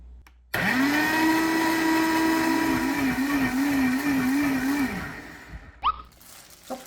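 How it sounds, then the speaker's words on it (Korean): Blender grinding cooked rice and yogurt for scallion kimchi: a loud, steady whirring motor runs for about four seconds, wavers briefly in pitch, then winds down and stops, followed by faint handling noises. "요거 두 개. 이렇게 넣고 갈아주세요."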